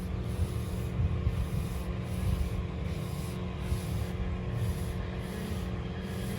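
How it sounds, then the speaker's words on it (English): Sandpaper rubbed by hand over a part of a 354ci Cleveland engine build, with rhythmic swishing strokes repeating about twice a second over a steady background hum, close and without voices. "let that sandpaper do the work"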